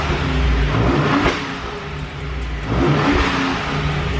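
A 2019 Ford Raptor with its stock exhaust revs loudly up close, two strong swells of engine roar rising and falling over a steady idle rumble, with no talk.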